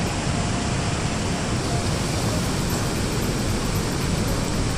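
A waterfall inside Bluewater Cave in Baggao, Cagayan, pours in a steady, loud broadband roar that fills the whole clip with no break, dense and close like rushing surf.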